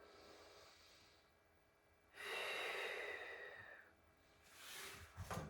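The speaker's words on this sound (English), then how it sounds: "One more deep breath." A deep breath taken while stretching on a Rollga foam roller, a long slow audible inhale-exhale lasting a couple of seconds, followed by a shorter breath, close and soft with no talking.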